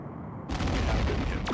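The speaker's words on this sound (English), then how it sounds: "Torpedo away. Direct hit." A photon torpedo fired in the Star Trek: A Final Unity video game, a sudden loud booming blast after a brief quiet moment, rumbling on to the end.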